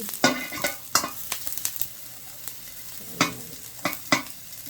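An egg fries in oil in a 32 cm non-stick wok, with a soft sizzle broken by sharp scraping and clacking hits of a utensil against the pan at irregular intervals.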